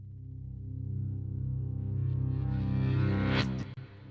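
An 8-string guitar chord played backwards swells slowly from nothing to a thick, loud tone over about three seconds, then cuts off abruptly, with no voices.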